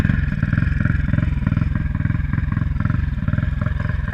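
A turbocharged 160 motorcycle engine with an injection fault, restarted and idling in a loud, close, steady pulsing rumble with a fast even beat and nobody talking.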